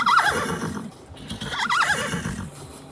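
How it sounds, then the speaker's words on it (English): Two horses whinny back and forth across a driveway, each call loud and shrill with a quavering, wavering pitch, joined by faint hoof clops in between. "My horses are very vocal,"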